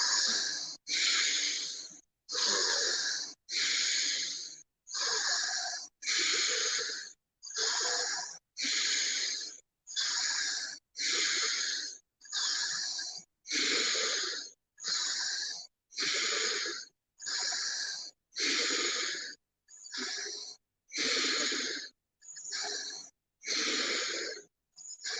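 Rapid, deep breathing during a shamanic breathwork session: about twenty strong, evenly paced breaths, each a loud rushing, slightly wheezy draw of air with short gaps between, close to the microphone and with no voices over it.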